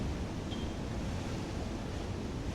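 Rough sea on the south coast churns against a fishing pier under strong wind, a dense, constant roar of surf and gusty wind noise with no breaks.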